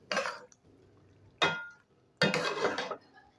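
Chicken malai handi being stirred in a pot, three separate bursts of spoon scraping and clinking against metal with quiet pauses between, close and fairly loud.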